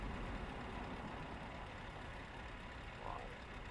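A Scania truck engine in Euro Truck Simulator 2 hums at a low, steady idle, faint and even throughout with no sharp events.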